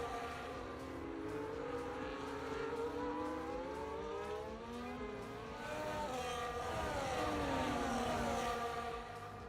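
Race cars lapping the Bahrain circuit in a sim racing league game, several engine notes rising and falling in pitch as cars accelerate and brake, overlapping steadily at moderate level without speech.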